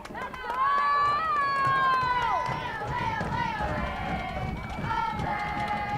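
Crowd at a men's college soccer match cheers after a low shot goes in off the post at Harrington, a broad roar under a commentator talking over it.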